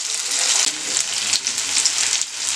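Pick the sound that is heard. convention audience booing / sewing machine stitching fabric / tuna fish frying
tuna fish frying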